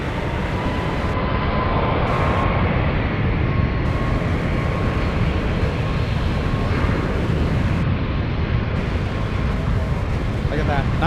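Steady broadband business jet engine roar at San Francisco International Airport, loud and continuous throughout, with a low rumble and a faint hiss on top.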